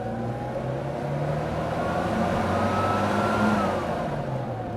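A 1998 Mini Cooper with a 1.3 litre four-cylinder engine accelerates, the engine note climbing and swelling steadily from inside the car, loud and continuous with no talk over it.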